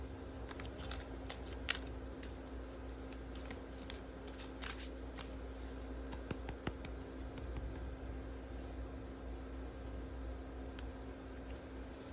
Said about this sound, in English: I'm shuffling the cards, by the way.